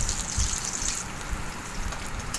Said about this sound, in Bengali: তেলটা গরম হয়ে গেলে এবার আমি দিয়ে দিলাম গোটা জিরে। গোটা জিরে দিয়ে এবার আমি দিয়ে দিলাম রসুন কুচি আর পেঁয়াজ কুচি।